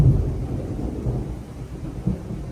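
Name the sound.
thunder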